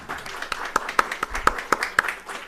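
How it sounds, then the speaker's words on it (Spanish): Conference audience gives welcoming applause, a sparse scattering of distinct hand claps at a moderate distance, fairly steady over a couple of seconds. "les pido un aplauso, por favor, como bienvenida"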